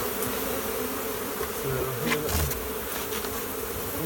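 A honeybee swarm buzzes steadily and close by, a dense continuous drone of many bees with a few individual bees whining past, and no one talking.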